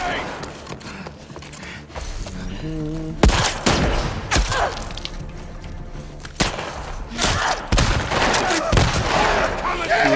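Gunfire in The Last of Us Part II comes as scattered sharp shots and bursts mixed with mechanical clanks and creaks, loud and irregular over about ten seconds.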